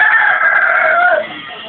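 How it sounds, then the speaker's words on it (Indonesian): A single close, loud rooster crow holds for about a second before fading into quieter background clucking. "Wah, lagi dikasih makan ayamnya."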